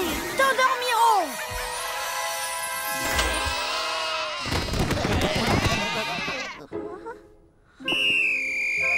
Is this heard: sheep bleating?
yes